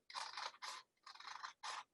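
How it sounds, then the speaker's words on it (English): Paper being cut with scissors in four quick bursts of crisp snipping and slicing, close by, with short pauses between strokes. "So I'm going to cut out my 4-inch circle."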